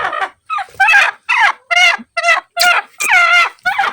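A hen being lifted and set back onto her eggs for hatching clucks loudly and close, giving a run of about nine sharp, agitated calls with brief gaps between them.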